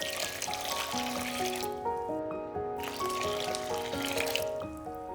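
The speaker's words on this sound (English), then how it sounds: "And boiling hot water." Boiling hot water poured into a rice flour and tapioca starch batter for Vietnamese banh cuon rolled cakes, a steady close trickle running under background music.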